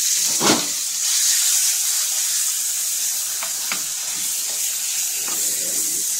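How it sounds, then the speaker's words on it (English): Pork pieces hit a hot pan with browning onions and sizzle loudly and continuously, a steady frying hiss with a few brief clinks and stirring sounds. "Let's add our meat. Here goes our pork."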